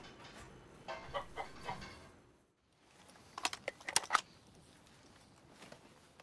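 Chickens clucking close by in a short burst of sharp calls near the middle, with earlier softer clucks and a brief quiet gap between, over a low background hum.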